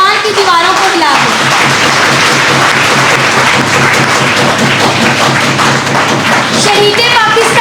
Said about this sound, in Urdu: میں پورے ایوان سے کہوں گی کہ اپنی نئی اسپیکر کا استقبال کھڑے ہو کر تالیوں کی اس گونج میں کریں